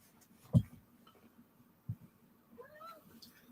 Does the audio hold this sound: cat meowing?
yes